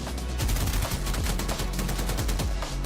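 Rapid bursts of gunfire crackle through a multiplayer shooter video game, with overlapping automatic shots and sharp cracks repeating densely and fairly loudly throughout.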